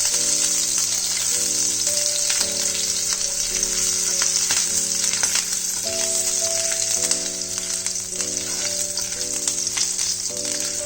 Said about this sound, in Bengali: কাঁচা লঙ্কাটা কিছুটা ফ্রাই হয়ে গেছে